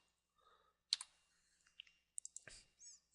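Computer mouse clicking at a desk while working in AutoCAD, with sharp, faint clicks close by in short, quiet bursts, including a quick pair of clicks.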